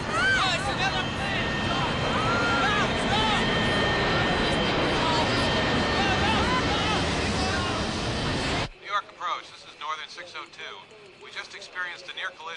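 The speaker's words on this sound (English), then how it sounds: "Oh, it's another plane!" A loud airplane engine roars close by for most of the stretch, then cuts off abruptly, and people talk excitedly both over the roar and afterward.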